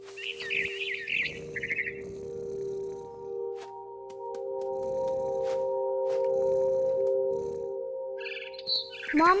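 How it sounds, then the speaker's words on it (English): A barn swallow in the video game What Remains of Edith Finch gives bright twittering chirps in short bursts near the start and end, over a sustained tonal music drone and soft rustling. "It was a barn swallow going back to her nest."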